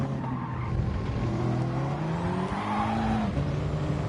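A Gr4 race car brakes hard at Spa in Gran Turismo, its engine tone falling steadily while the tires squeal and skid in a continuous close whine.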